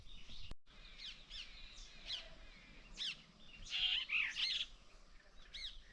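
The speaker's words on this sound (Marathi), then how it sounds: "बुलबुल पक्षी आहे का कुठला आहे चालू आहे त्याचं गायन सकाळ सकाळ" Bulbul song on a tree in the early morning during lotus planting preparations: a series of bright, warbling chirps and short phrases, moderately near and fairly loud, repeating across the clip with a brief gap near the start.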